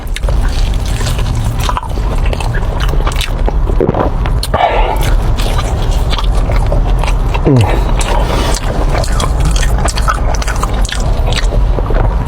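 Close chewing of glazed barbecue pork prime ribs, with wet, squishy bites and smacking under steady talking and background chatter throughout.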